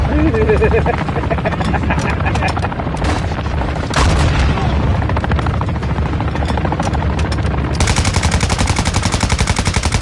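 A helicopter gunship being shot down in Modern Warfare 2 multiplayer: steady rotor thrum and heavy machine-gun chatter, a loud boom midway, then fast rattling fire continuing to the end, with a voice talking over it.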